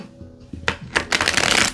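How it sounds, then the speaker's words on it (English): A deck of playing cards is shuffled up close, with a soft riffle building into a dense, crisp flutter of cards that gets louder and busier toward the end. "All right, one more shuffle. One more shuffle."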